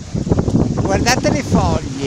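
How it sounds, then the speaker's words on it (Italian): Strong gusty wind buffets the microphone and blows leaves about beside Lake Maggiore ahead of an approaching storm, a loud rushing roar heard under a person speaking excitedly. "le foglie come volano. Che vento! Che vento!"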